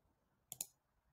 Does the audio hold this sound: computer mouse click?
yes